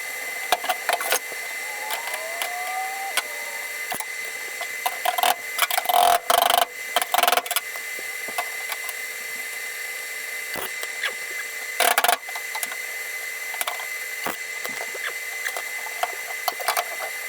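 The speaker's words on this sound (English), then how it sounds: "So let me get the welder fired up, and I'm probably just going to weld it from the other side" A welder tack-welds a small floor rust patch panel on a Squarebody C10, giving steady buzzing crackle throughout with a few louder bursts around the middle and near the end, no talking.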